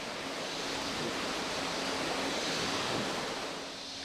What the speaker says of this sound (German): Ganz gleichmäßig schlagen die Wogen von unten an die Wave Tubes.